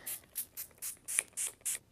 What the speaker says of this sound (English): Turn it over, and I'm going to spray it liberally.